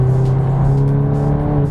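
Volkswagen Golf R with a Stage 1 remap at 448 hp, engine pulling hard under acceleration, a strong steady drone heard from close by, loud and alone with no talk.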